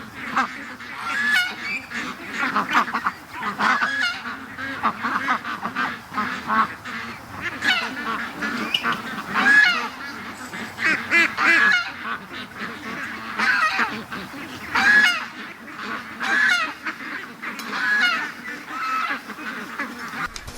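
Ducks and geese in a pen honk and quack steadily, a busy, overlapping chorus of nearby calls going on throughout with no pause.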